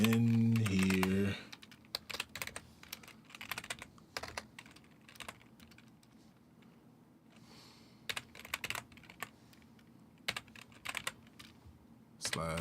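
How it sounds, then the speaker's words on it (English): Rapid clicking of a computer keyboard while someone types during a modded Minecraft session, steady bursts of keystrokes at moderate volume after a brief tonal sound at the start, with no voice over the typing. "What am I typing in here?"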